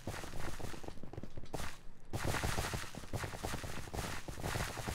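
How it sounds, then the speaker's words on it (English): In Minecraft, a modded vehicle gives off a driving sound like footsteps: a dense, fast run of crunchy, step-like thuds, loud and continuous with a brief dip near the middle, and no talk over it. "this noise I'm hearing is like the driving sound, kind of pretending like footsteps"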